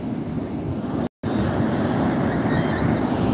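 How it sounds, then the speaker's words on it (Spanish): Ocean waves break on a beach in a continuous loud roar of surf with wind rushing across the microphone, heard without voices. "Transmitiendo ese hermoso oleaje espectacular."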